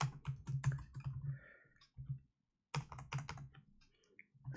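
Typing code on a computer keyboard, with rapid close clicking keystrokes in two flurries separated by a brief silent pause.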